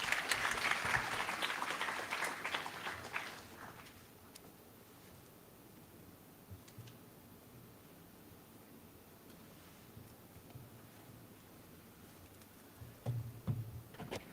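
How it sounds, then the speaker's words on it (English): Applause from an audience at a management institute orientation program, loudest at the start and fading after about four seconds into faint room noise, with a brief stir near the end. "Huge round of applause, please."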